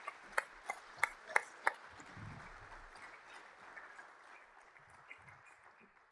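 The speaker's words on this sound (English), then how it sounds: "let's give them a warm round of applause" Audience applause at a high-speed rail conference, a few sharp claps up front that quickly thin into faint, scattered clapping and room rustle, fading toward the end.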